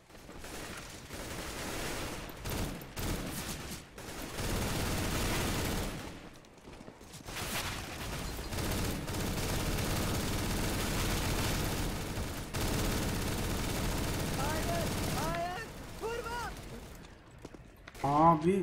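Sustained rapid gunfire from a CS:GO JailBreak match, dense bursts running almost continuously with short gaps, loud and close, with players' voices mixed in underneath.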